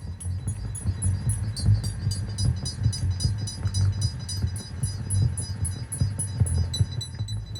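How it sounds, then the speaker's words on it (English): Analog modular synthesizer music with a steady pulsing low bass pattern and a rapid repeating high sequence of bright ticking notes, rhythmic and continuous, played alone without voices. "I bought a modular synthesizer and started making music and sounds."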